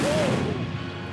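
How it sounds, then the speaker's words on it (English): Bowser's fire breath in a Super Mario Odyssey cutscene: a loud, dense roaring whoosh that bursts out and rushes on steadily for about a second before easing slightly. "Look at that fire breath."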